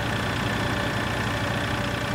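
Tractor engine idling in the farming game Landwirtschafts-Simulator 2013, a steady, even drone holding at the same level throughout with no talk over it.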